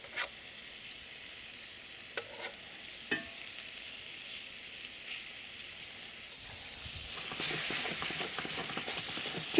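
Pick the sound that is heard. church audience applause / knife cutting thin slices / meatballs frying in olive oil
meatballs frying in olive oil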